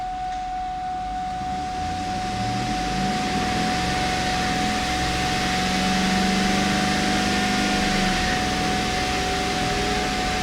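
Wheels of a Cadillac Escalade raised on a lift spin up steadily in a shop, giving a continuous broadband whirring drone with a constant high whine running throughout, fairly loud and without talk.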